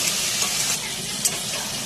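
Chicken being sautéed in a large pot with turmeric and salt, cooked outdoors at a garden house; a loud, dense continuous sizzle with a couple of brief scrapes from stirring, no talking.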